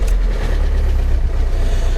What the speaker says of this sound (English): I'm actually going to turn the vehicle on, just so I don't flatten the battery